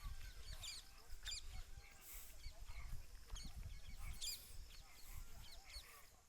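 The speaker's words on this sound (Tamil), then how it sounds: "அந்த குயில் சத்தம் கேட்குதுங்களா காலையிலே?" An Asian koel calls in the morning, its faint, distant notes repeating several times over a quiet outdoor background.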